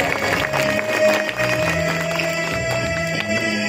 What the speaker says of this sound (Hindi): पुरजोर तालियों के साथ मौलाना शहजाद साहब।